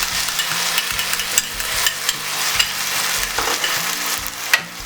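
Chicken noodle stir-fry with seasoning sauce being stirred in a hot pan, a steady loud sizzle with repeated scraping and clattering of the utensil throughout.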